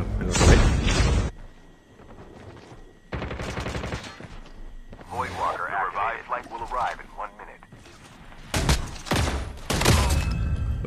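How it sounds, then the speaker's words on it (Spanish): Bursts of shotgun fire in the mobile shooter Call of Duty Mobile, loud and close, striking in separate blasts at the start and again near the end, with a person talking in Spanish between the shots. "Lo siento por matarte con escopeta."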